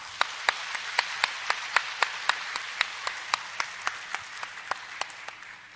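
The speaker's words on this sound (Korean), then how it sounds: "박수 한번 더 크게 한번 하십시다." A church congregation at a Sunday morning worship service claps in unison, with a steady, evenly spaced beat of about three claps per second that stays moderately loud throughout.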